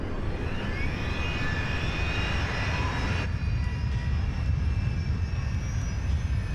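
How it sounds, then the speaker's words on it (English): A Rolls-Royce jet airliner engine spools up with a deep, steady roar and a thin high whine rising over it, loud and continuous throughout. "engine number 4 roars to life."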